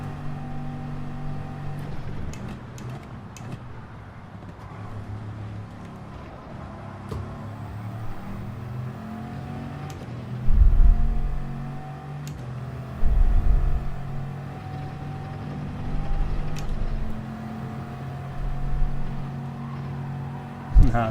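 Bugatti Veyron engine in Gran Turismo 7, a low droning hum that swells into several deep revving surges toward the end, with the game's engine audio carrying steadily throughout.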